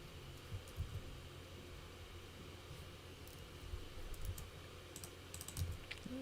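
Quiet, steady typing on a computer keyboard, with soft irregular key clicks over a faint background hiss and no voices.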